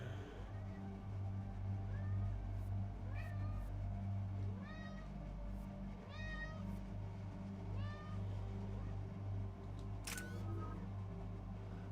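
A cat meows several times in short rising calls, fairly close, over a steady low hum of background game sound and music, with a sharp click near the end.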